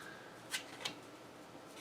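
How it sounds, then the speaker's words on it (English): Cards in a deck are shuffled during a tabletop card game, Arkham Horror: The Card Game, giving a few quiet, brief riffling bursts spaced across an otherwise hushed moment. "And then we got a shuffle."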